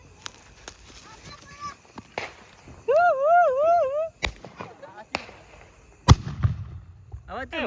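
Sutli bomb firecrackers go off at a village Diwali celebration in Gujarat: a few sharp, loud bangs spaced over several seconds, with a wavering whistle in between and people talking around them.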